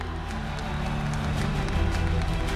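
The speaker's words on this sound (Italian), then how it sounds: "Facciamoci sentire con un grande applauso per Suad Sbai!" A live audience at a Rome political rally applauds and claps for Souad Sbai, a dense steady burst of clapping mixed with crowd noise throughout.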